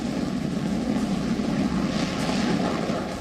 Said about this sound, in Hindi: विमान हवा में चक्कर काटता रहा।